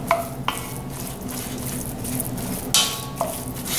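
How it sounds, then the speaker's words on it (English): Ground sirloin and sausage being stirred and mixed in a cast iron Dutch oven, with soft squishing and scraping plus a few clinks of the utensil against the pot's rim. "Notice how I'm just mixing everything together here"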